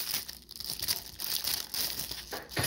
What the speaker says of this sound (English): let's unwrap the Pop-Tarts